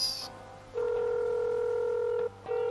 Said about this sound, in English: Should we phone him